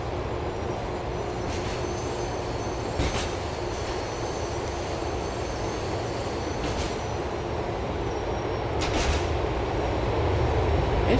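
An LTA Rail train rides along the Algonquin Outer Line in Grand Theft Auto IV, a continuous rumbling roll of wheels on track with periodic clicks and brief metallic squeals, steady and close from inside the car.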